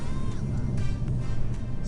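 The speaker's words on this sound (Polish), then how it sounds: "Włączam tryb N, już od razu słyszymy takie dudnienie." Low exhaust rumble from a Hyundai i30N Performance with N mode just switched on, a steady deep drone close by and continuing without a break.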